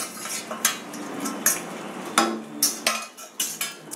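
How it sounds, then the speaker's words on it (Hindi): Guava pulp cooks for halwa in a pan as a spoon stirs and scrapes it, with intermittent metallic taps and clinks over a soft, faint sizzle. "धीरे धीरे चलाते हुए 20 मिनट तक लगभग इसको भूनना है"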